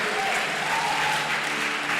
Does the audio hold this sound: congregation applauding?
yes